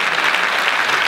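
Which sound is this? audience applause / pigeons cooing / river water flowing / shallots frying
audience applause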